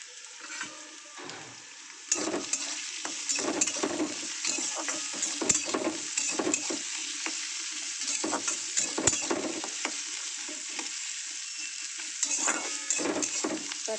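Green beans fry in a hot kadai over a low gas flame, a constant sizzle broken by repeated scraping and stirring strokes, close and fairly loud.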